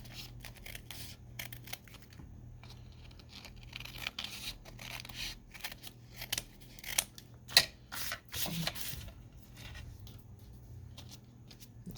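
Paper pieces for vintage book page pockets being trimmed, with close, soft snips and papery rustles scattered irregularly, a few sharper cuts and crinkles in the middle and no voices.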